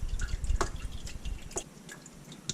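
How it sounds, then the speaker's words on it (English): Used engine oil from a Porsche 996 oil filter housing pours and drips into a container, making irregular close-up drips, splashes and a soft trickle at low volume. "I'm pouring most of the oil out of the filter housing."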